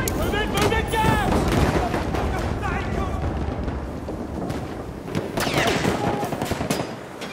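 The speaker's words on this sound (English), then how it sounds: "Machine gun!" Dense, continuous machine gun fire with overlapping bursts and explosions on the Battlefield 1 Somme River battlefield, loud and close throughout while shouting voices carry over it.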